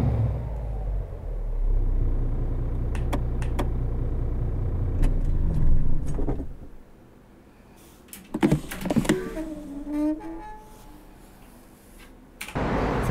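Engine of a new MAN Euro 6 truck in a driving game with a real engine sound mod: a loud low rumble that cuts off about halfway, followed by clicks, hissing air and mechanical clunks.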